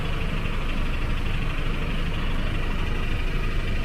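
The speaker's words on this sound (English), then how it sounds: "It's like a pump in here, some kind of water pump or something by this park." Steady broadband mechanical hum of a water pump running near a park in Bangkok, loud and continuous with no break or change in rhythm throughout.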